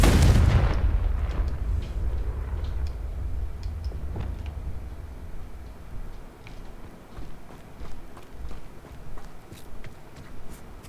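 A Confringo spell explosion in a Harry Potter video game, one loud deep blast at the start that decays into scattered crackles, thuds and footstep-like taps, with no talk.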